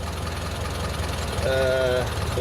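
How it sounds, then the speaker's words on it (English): Motorcycle engine running steadily at idle, a continuous low mechanical rumble throughout, with a brief tonal whine rising over it near the end. "Engine runs beautifully."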